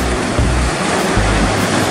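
Waist-high ocean waves closing out at a surf break, a loud continuous roar of surf with rushing swells, no voices.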